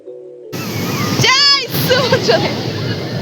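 Sea waves at Puri beach rush and wash in as a broad, loud hiss and swell, with voices and excited cries over the surf.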